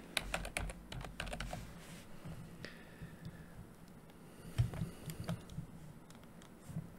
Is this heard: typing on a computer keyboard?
yes